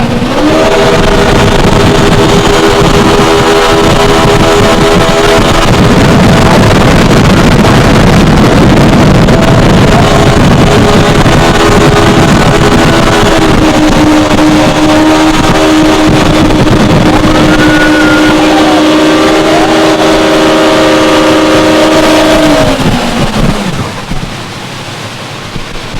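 A 2008 Yamaha SX230 High Output jet boat engine revs hard and holds a loud, steady drone at about 54 mph, with rising and falling pitch through a sharp turn, wind buffeting the microphone, then easing off near the end.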